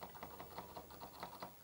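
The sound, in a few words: typing on an old home computer keyboard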